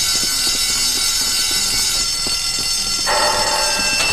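A fire alarm bell in the video game Bully rings loud and continuous throughout, its tone shifting abruptly near the end.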